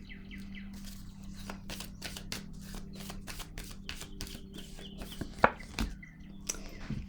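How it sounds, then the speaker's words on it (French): Tarot cards are shuffled and drawn in a quick run of crisp riffling flicks, with a few sharper snaps near the end, close and fairly quiet with no talking. "Je vais piger une autre carte."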